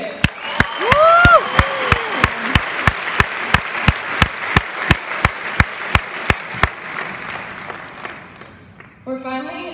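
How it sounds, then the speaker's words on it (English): A high school graduating class in an auditorium breaks into applause: about twenty loud, evenly spaced sharp claps beat over a crowd roar, with a cheering voice early on. The noise thins toward the end as someone begins talking. "class of 2015, please give yourselves a huge round of applause because we made it"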